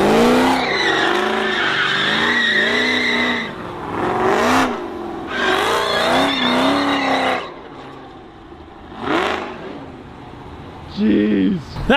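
A BMW V10 M5 with an SMG gearbox pulling out, its loud high-pitched engine wailing and rising through revs, then fading away, while excited onlookers talk and exclaim over it nearby.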